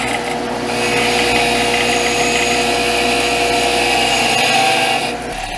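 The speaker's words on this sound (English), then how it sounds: "I'm starting with the high RPM die grinder" A high-RPM die grinder removing casting flash from an aluminum dirt bike linkage, whining loudly and continuously close by with a gritty grinding edge, then cutting off near the end.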